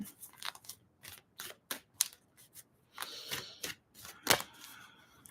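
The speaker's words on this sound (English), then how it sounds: "Just giving these cards a little bit of a shuffle" Tarot cards are shuffled by hand in dry, papery bursts of riffling and slapping. The bursts come irregularly, close and fairly quiet, with short silent gaps between them.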